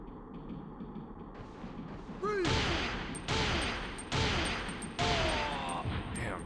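Gunfire in the PlayStation game Covert Ops: Nuclear Dawn, played on original PlayStation hardware: four loud, closely spaced bursts of shots over a low background drone, each with a ringing metallic tail.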